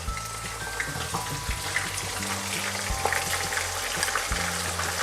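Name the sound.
frying bay leaf, cinnamon, cardamom and chopped onion in a pan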